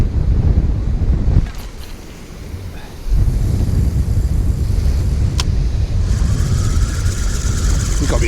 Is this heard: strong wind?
yes